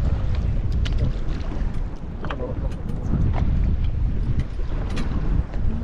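A fishing boat's engine drones steadily out at sea, blended with heavy wind buffeting the microphone and faint voices in the background.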